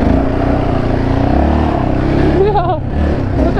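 A Raptor quad ATV engine revs loud and close while the quad drifts, a steady rough growl that rises and falls, with a squeal near the end.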